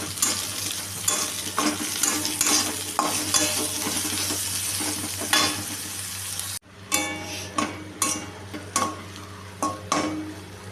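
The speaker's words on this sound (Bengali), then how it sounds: "আমি পেঁয়াজ আর ক্যাপসিকামটাকে ভালো করে ভেজে নিয়েছি।" Onion and capsicum fry for egg chowmein in a continuous sizzle, punctuated by repeated clinking scrapes of a utensil against the pan. A brief break in the middle is followed by the same sizzle and stirring.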